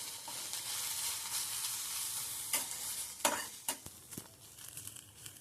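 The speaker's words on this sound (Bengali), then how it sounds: "সব ভালো করে নেড়ে চেড়ে মিশিয়ে নিচ্ছি" Onion, capsicum and ginger-garlic paste frying in a pan, a steady sizzle broken by several quick scraping strokes and clinks of a spoon stirring near the end.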